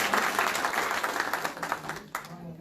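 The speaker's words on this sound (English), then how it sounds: "And we also need a clap for Higher Education Commission" Audience at a conference closing ceremony applauding, a sustained burst of many hands clapping that thins out and fades after about two seconds, moderately distant in a hall.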